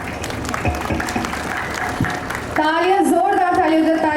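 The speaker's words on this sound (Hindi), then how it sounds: "तालियां, जोरदार तालियां" Loud applause from an audience at a launch event, dense steady clapping throughout, with a voice talking over it in the second half.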